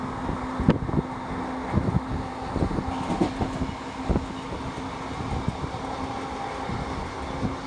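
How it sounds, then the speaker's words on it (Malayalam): A train runs at speed, heard from on board as a steady rumbling roar with rhythmic clacks and knocks from the wheels, continuous with no voices. "ട്രെയിൻ നല്ല അടിച്ചുപൊളിച്ച് സ്പീഡിൽ പോയിക്കൊണ്ടിരിക്കട്ടോ"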